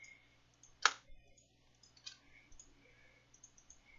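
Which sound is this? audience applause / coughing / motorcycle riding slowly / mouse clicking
mouse clicking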